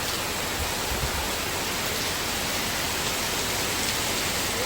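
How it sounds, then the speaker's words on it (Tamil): A morning downpour in Chennai makes a thick, constant roar of rain throughout, loud and even, with no talk and no pauses. "ஏன்னா பயங்கரமா மழை பெய்யுது காலையிலேருந்து."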